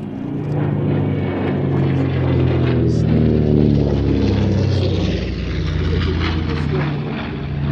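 A DC-6 propeller airliner drones steadily overhead at an airshow with a deep, layered engine hum that swells and fades slightly as it passes.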